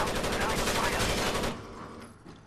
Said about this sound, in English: like I'm shooting you through the glass